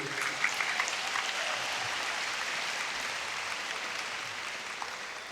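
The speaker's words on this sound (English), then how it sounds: "Will you all give another big round of applause" Steady applause from a large crowd at a gala, dense and sustained throughout without a break.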